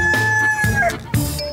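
Chickens cluck and a rooster crows loudly and close by on a farmstead that also keeps rabbits, pigs, deer and donkeys, with no talk over the birds.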